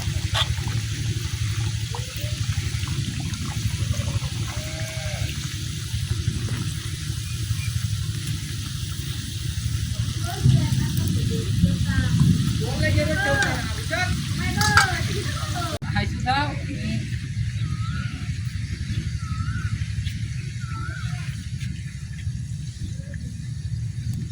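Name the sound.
singaras (samosas) frying in hot oil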